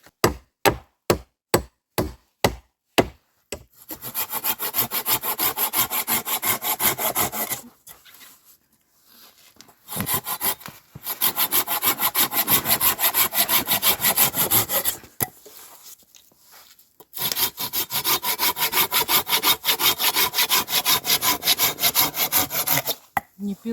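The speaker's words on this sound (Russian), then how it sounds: "А я сейчас пилить собралась" A hand saw cuts wood in fast rhythmic back-and-forth strokes, loud and close, in several long bursts separated by brief pauses.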